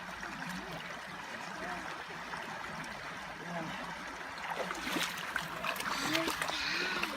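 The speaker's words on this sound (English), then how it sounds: "Get the water in it, wash it all back down to the bottom riffle." Water splashes and trickles steadily as it washes gold-bearing gravel from a Reedy Creek pipe clay layer down a sluice toward the bottom riffle, with voices talking over the running water.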